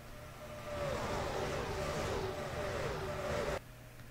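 Race car engines from a NASCAR racing video game sound mod drone at Daytona, a steady buzzing roar that swells after the first second, holds, then cuts off abruptly near the end.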